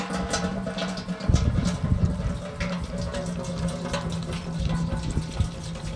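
Metal prep liquid is poured into a metal gas can, making a continuous splashing, gurgling flow that stays close and fairly loud throughout.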